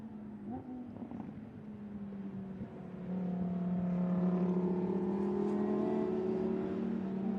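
Lamborghini Super Trofeo race cars running at reduced pace behind a safety car at Vallelunga, engines droning and revving steadily nearby, swelling louder and fuller partway through with layered whining tones, no talk.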